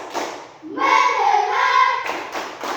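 A classroom of students performs a rhythmic focus clap together, a quick burst of claps followed by a chanted group response, then more sharp claps, all close and loud in an indoor room.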